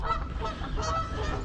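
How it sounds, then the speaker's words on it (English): Canada geese honking outdoors in spring sunshine during mating and fighting, a dense, continuous chorus of loud overlapping honks close by with no pauses. "Some Canada geese out in the sunshine, mating and fighting."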